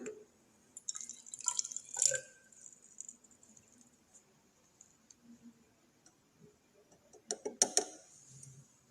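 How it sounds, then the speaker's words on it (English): Water is poured into a glass measuring cylinder in a classroom physics demonstration, giving faint splashes and drips in short bursts with quiet stretches between, and no talk over it. "let me pour this water over here"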